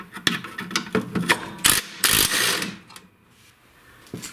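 A hand ratchet wrench turns a 1/2 inch bolt on a seized Tecumseh snowblower engine, giving a series of close, crisp clicking bursts in an uneven rhythm, then fading to near quiet with one last click.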